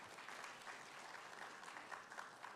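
A crowd applauds at an entrepreneurship awards ceremony in Trinidad and Tobago, steady moderate clapping that stays quite faint and distant throughout.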